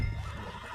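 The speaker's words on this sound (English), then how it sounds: "Put Strauss on the back of John's horse" A horse in Red Dead Redemption 2 gives a loud, close neigh at the very start that fades into a rumbling tail.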